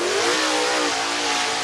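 A race car engine, the number 29 car, revs hard on the Talladega short track, one close loud engine note sweeping upward then holding steady, with no talking.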